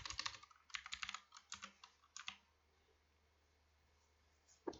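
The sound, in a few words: typing on a computer keyboard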